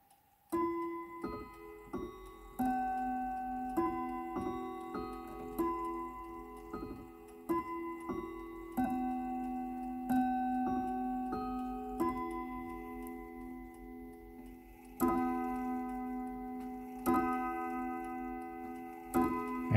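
A deco English mantel clock with its case door open and the movement running, giving close, steady ticking with ringing chime or gong strikes sounding repeatedly over it.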